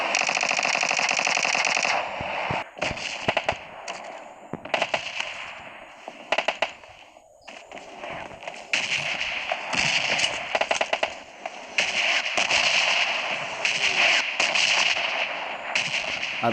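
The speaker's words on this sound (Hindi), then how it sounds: "और ऊपर से ये AKM के शॉट्स आ रहे थे जिसकी वजह से दिमाग ख़राब हो रहा था" AKM rifle fire in PUBG, rapid bursts of sharp cracking shots repeating in clusters over a steady background hum, some shots close and loud, others more distant.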